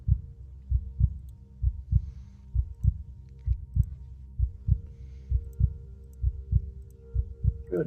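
A heartbeat sound effect plays during a tabletop game session, a steady series of deep, close double thumps repeating about once per second over a low hum, with no talking.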